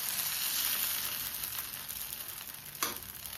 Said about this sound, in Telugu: ఇప్పుడు ఈ దోశల పిండి దీనిలో పోసేద్దాం.